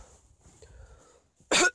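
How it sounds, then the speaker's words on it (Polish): A sick woman gives a single sharp, loud cough close to the microphone, following a stretch of quiet background rustle. "Aż mnie boli, jak kaszlam."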